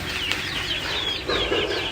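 A Lasani cross Aseel fighting rooster clucks and flaps its wings close by, with short flurries of wingbeats and scratchy calls running through the whole moment.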